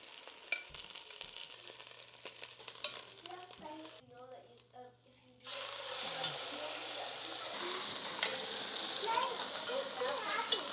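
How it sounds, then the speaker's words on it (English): Chicken sizzles as it sears in a hot pot with a steady crackling hiss, briefly interrupted by stirring and clatter, with a voice speaking now and then. "Just gonna sear these parts for a hot second."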